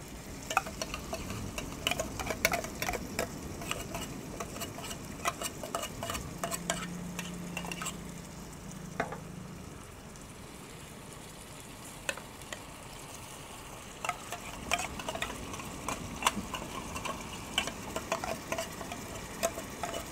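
Tuna being stirred into sautéed ingredients frying in a pan, with soft continuous sizzling and scattered sharp clicks of a utensil scraping and tapping the pan throughout.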